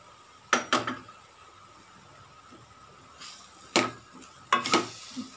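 A spoon scrapes and clatters in a cooking pan while grated coconut is stirred in, three short clusters of knocks standing out over a quiet background.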